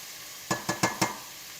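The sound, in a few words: onions sautéing in a pan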